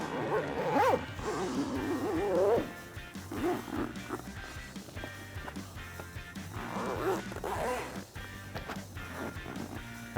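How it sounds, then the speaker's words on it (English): Zippers run along the track as new tinted windows are fitted into a replacement soft top on a two-door Jeep Wrangler JK, giving repeated close rasping pulls and fabric rustles with occasional bumps, and no talking. "now we're ready to just go ahead and zip all your new windows in place"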